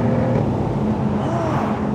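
A rear-wheel-drive Jaguar F-Type with a slightly muffled exhaust drones loudly and steadily as it accelerates, its dense engine rumble filling the whole moment, with no distinct exhaust pops standing out.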